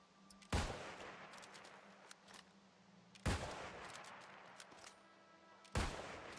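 Three loud, sharp gunshots from a gun in the video game New World, spaced a couple of seconds apart, each with a ringing, decaying tail over a quiet game background.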